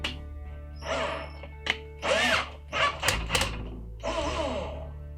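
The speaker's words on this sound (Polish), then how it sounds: "Zwykła wkrętarka, najtańszy model jaki mogłem znaleźć." A cordless screwdriver whirs close by in several short bursts, its motor pitch rising and falling as it bites into plastic, with quiet gaps between.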